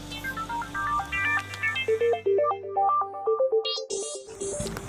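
A new mobile phone rings with a bright, melodic ringtone of quick rising and falling notes, loud and close, and the sound changes character partway through. No one talks.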